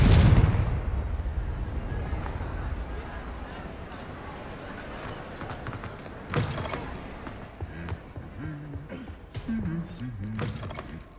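A heavy magical blasting spell detonates loudly at the start of a Hogwarts Legacy gameplay scene, then rumbles off into softer crackles and thuds, with a voice speaking over the later part.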